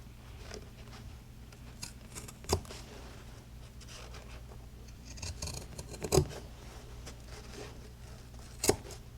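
Scissors trim excess fabric from a pair of thrifted jeans, faint close snips and crisp cuts, with sharper ones standing out at intervals over a quiet background and no talk.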